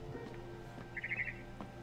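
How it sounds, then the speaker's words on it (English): A barn swallow chirping outside a window in the video game What Remains of Edith Finch, a short, quiet run of rapid high twitters over a soft ambient game background. "Then I heard chirping outside my window."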